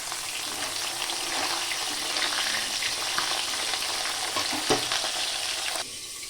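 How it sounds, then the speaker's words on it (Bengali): Chilli chicken meat frying in a pan makes a constant soft bubbling sizzle nearby, broken by a brief clatter near the end before the sound quietens slightly. "দেখো এতগুলো ভাজা হয়ে গেছে এটা লাস্ট ভাজা চলছে"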